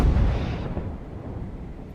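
A deep, booming cannon shot from a sailing ship in Ultimate Admiral: Age of Sail, a single heavy blast with a rumbling tail that slowly fades, loud and close.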